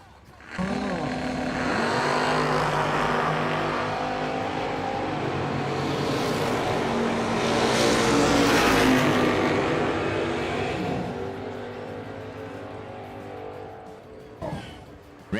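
Camaro at a drag strip roaring off the line and screaming down the track, loud sustained engine howl that swells and fades, with announcer talk over it.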